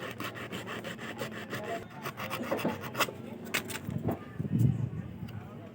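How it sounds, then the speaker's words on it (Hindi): A sewing machine part being rubbed with zero-grit sandpaper, giving close, repeated rasping strokes in an uneven rhythm, with a voice speaking alongside. "ये रेगमाल ले लेना है ज़ीरो का और इसके साथ अच्छे तरीके से आपने ये"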